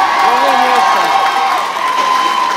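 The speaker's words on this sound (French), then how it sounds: "On peut les applaudir bien fort." Audience at a French school graduation ceremony applauding honoured graduates, a loud crowd of clapping and cheering with excited voices and chatter mixed in throughout.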